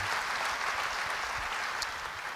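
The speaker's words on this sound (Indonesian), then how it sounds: "Yang mau beri tepuk tangan bagi dia." A church congregation claps together in a steady, even wash of applause, moderately loud and unbroken from start to finish.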